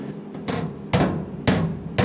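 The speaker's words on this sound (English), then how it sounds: "You can see I've got a heavy hammer and I'm not swinging it super hard" A heavy hammer strikes the driver's side floor pan metal of a Ford dentside truck, four loud, ringing metallic blows spaced roughly half a second apart, each with a short resonant tail.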